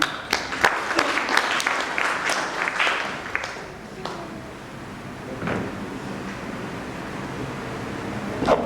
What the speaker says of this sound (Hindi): एक बार पुनः तालियाँ।